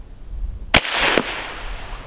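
A subsonic .22 LR rifle fires a single sharp, fairly loud crack outdoors, followed by a brief rustle and a faint second impact snap a moment later.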